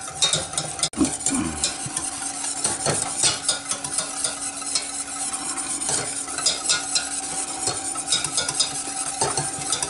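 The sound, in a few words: stirring a mixture in a pan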